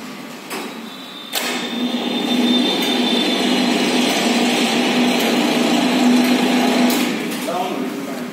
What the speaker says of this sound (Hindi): अभी मैं आपको इसकी आवाज सुनवा रहा हूँ ट्रैक्टर की